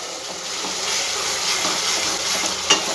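Spice paste for an onion curry frying in a pan, giving a steady bright sizzle and hiss at close range with a faint clink near the end and no talking.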